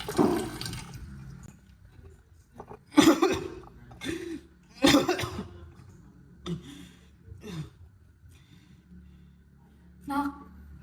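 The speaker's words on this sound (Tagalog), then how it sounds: "Lumalala na itong ubo ko" A person coughs repeatedly in a dramatized skit about smoking and lung illness: several hard, close coughing bursts separated by short pauses, with faint breathing and low background noise between them.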